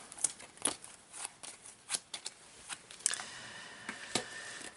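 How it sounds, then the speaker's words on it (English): Cards being shuffled for the Aftermath tabletop game, a series of crisp, irregular riffling snaps and light slaps, close by and fairly quiet, with short bursts spaced through the clip. "So I guess we should shuffle these."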